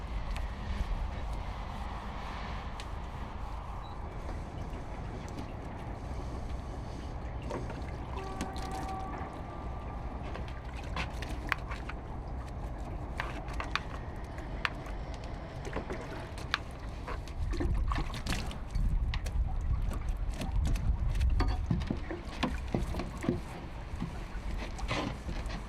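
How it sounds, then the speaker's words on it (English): Buckets of water dumped over an abandoned police car being restored after sitting in a swamp. Low, rushing splashes and pours come in uneven bursts, growing heavier toward the end, with no talking. "We decided to speed things up, just dumping water from buckets."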